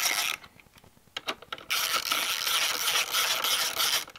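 A ratchet wrench loosening M5 bolts on a Honda Grom MSX125 motorcycle, with quick clicking ratchet bursts and mechanical rattles up close, a quieter stretch in the middle, then steady clicking with background hiss.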